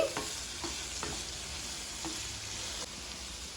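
Onions stirred in a pan with turmeric and salt for masala dosa filling, a steady faint sizzle broken by a few distinct scraping strokes of the spoon, with no talking.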